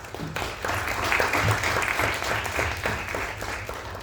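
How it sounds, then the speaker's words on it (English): Steady applause from an audience filling the room after a talk on gender equality in digital transformation, a dense wash of many hands clapping at even strength for about four seconds with no break. "Please, one round of applause."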